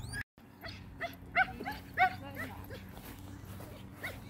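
A border collie whimpers and yips in short, thin, high-pitched bursts, several spaced cries over a faint background rumble outdoors, fairly close and moderately loud.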